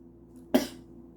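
A single sharp cough from a person in an Asian bakery, one short burst standing out clearly against a quiet indoor room hum.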